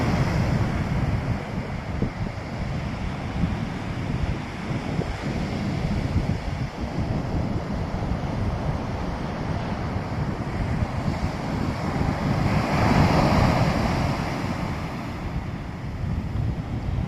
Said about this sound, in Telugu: చూసారా ఫ్రెండ్స్ బీచ్ అంతా ఎంత బాగుందో